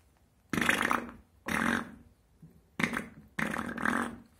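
A voice imitates a wet fart with four separate sputtering, lip-flapping bursts, each about half a second long with short pauses between, close and alone.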